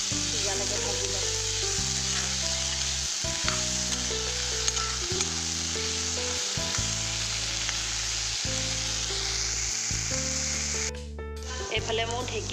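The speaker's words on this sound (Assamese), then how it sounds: "এতিয়া সিজালৈকে ভাজি লওঁ।" Dhekia fern and chickpeas frying in a pan with salt and turmeric, a steady close sizzle running throughout with occasional stirring scrapes, while background music plays.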